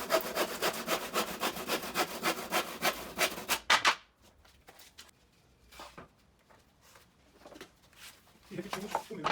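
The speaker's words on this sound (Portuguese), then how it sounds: "E venho com o serrote para serrar." Hand saw cutting wood in a musical-instrument-building workshop: fast, steady rhythmic rasping strokes for about four seconds, then quieter scattered scraping and handling noises with a few softer strokes near the end.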